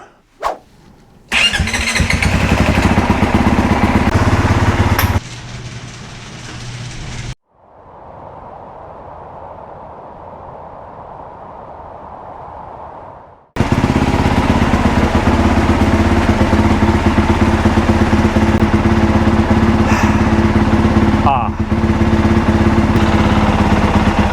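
The engine of a Honda CRF 450RX dirt bike starts and runs at a loud, close idle, drops to a quieter steady drone for several seconds, then comes back to a full, harsh running roar until the end.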